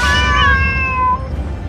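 A cat meows loudly and close up in one long drawn-out call with a falling pitch, fading at the end.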